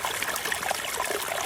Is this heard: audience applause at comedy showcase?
no